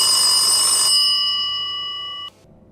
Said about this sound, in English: I was rolling again when the phone began to ring.